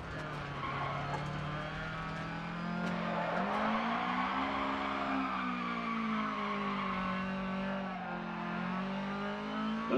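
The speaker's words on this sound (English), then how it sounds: "I got the car in front tires has just screeching." Rally kit car tires screeching through a turn in the Dirt Rally 2 VR racing game, a sustained loud squeal over the revving engine drone, continuous for several seconds with no talk.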